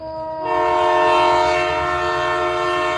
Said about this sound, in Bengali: ট্রেন ইতিমধ্যে ছেড়ে দিয়েছে